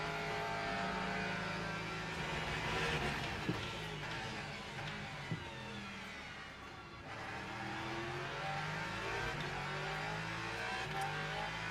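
A Le Mans Ultimate hypercar races past in-game, its engine revving hard and loud throughout with rising and falling pitch as it sweeps by, with no talking.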